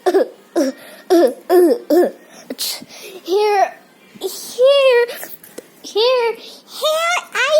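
A child coughs in a few short bursts, close to the mic, mixed in with bright childlike chatter and playful voices during pretend play about a sick unicorn.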